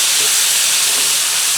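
Two teaspoons of pre-diced garlic sizzle in a skillet with the heat off, a steady, dense hiss running evenly and fairly loud throughout.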